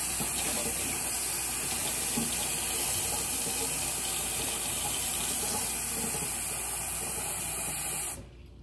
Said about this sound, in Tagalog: I'll get you fresh water.